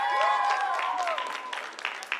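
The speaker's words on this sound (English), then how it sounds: "Keep the applause going, parents." Parents applaud at a charter school graduation ceremony in Hempstead, with soft, distant clapping that stays faint while a voice speaks over it.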